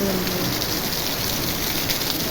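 Dense, steady monsoon downpour hisses continuously at a constant level, with no pauses.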